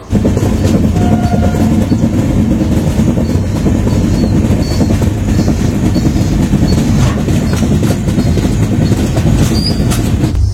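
A loud, continuous rumble of the 12837 Howrah Puri Superfast Express rolling along the tracks, heard close up with a steady rattling clatter throughout.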